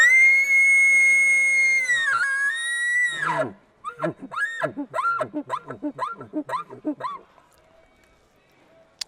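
A hunting call imitates an elk: a long, high, sustained whistle that bends and drops, followed by a rapid series of short rising chirps that fade away, with no one talking.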